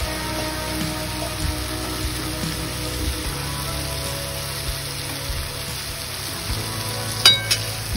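Vegetables sautéing in a pan for a quick tiffin dish, a soft steady sizzle and crackle with a few faint stirring clinks, no talking.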